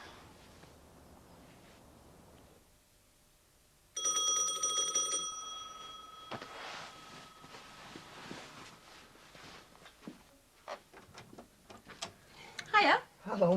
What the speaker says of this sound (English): Just a bit weird you ringing your own doorbell.